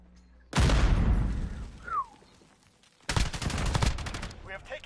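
Call of Duty Modern Warfare multiplayer combat: a loud grenade blast rolls out, then after a short lull a rapid burst of automatic gunfire, with game voice chatter in between.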